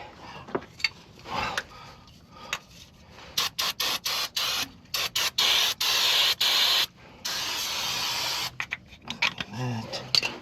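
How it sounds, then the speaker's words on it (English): An aerosol cleaner can sprays in a series of short bursts followed by one long hissing spray, close up, cleaning oil off a leaking PTO pump, with a person talking around it. "Little spray action, get rid of any slippery nonsense that's going on here."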